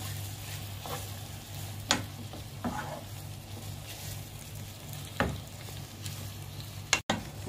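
Tomatoes fry quietly in a pan with a little water, a soft steady sizzle broken by several brief scraping strokes of a spoon stirring, faint and close with no talking.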